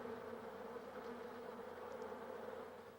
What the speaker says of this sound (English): The honeybee has been called the most important insect in the world.